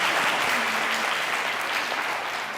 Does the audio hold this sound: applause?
yes